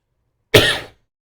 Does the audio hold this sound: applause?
no